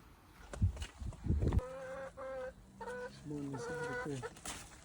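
Chickens cluck in short repeated bursts while being fed, fairly close and moderately loud, with a few rustling thumps and some quiet talking nearby.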